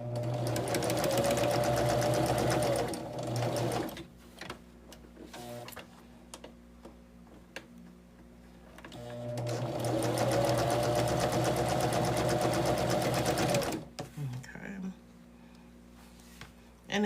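Sewing machine stitching small quilt pieces, two long, loud runs of rapid, steady needle chatter separated by quieter handling noises and a voice speaking.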